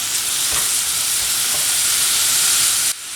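Roughly julienned vegetables browning in a frying pan, a loud, dense, steady sizzle and hiss with a few soft knocks of stirring, cutting off abruptly near the end.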